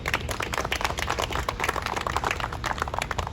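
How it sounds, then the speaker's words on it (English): Audience applause at a business resource lab grand opening, a steady dense wash of many hands clapping throughout, moderately loud. "So we give them a round of applause for just being innovative."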